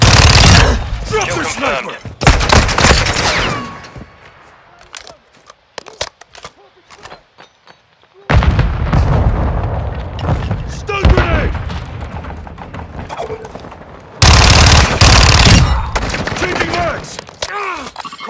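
Loud bursts of gunfire and heavy explosions from a Call of Duty: Modern Warfare Kill Confirmed multiplayer match in Kunstenaar District, coming in dense clusters with quieter gaps between, while voices shout callouts over the combat.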